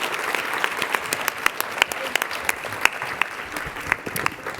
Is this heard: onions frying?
no